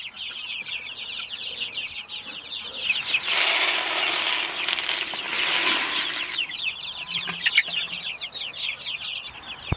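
Chickens on a farm cluck and chatter close by, with a burst of flapping wings and rustling through the middle; no one speaks.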